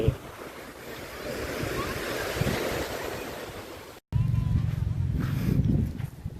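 Surf washes onto a beach at Rayong, Thailand, with a steady roar mixed with wind buffeting the microphone; after a brief cut the waves and wind grow heavier and more rumbling.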